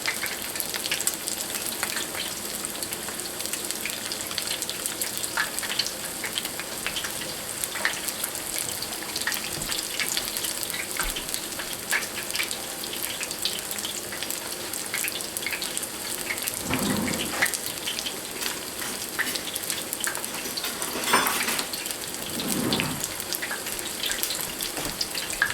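Very small chicken pieces frying in very hot oil, a continuous dense hiss and crackle with occasional louder bursts and bubbling surges, close and fairly loud, with no speech.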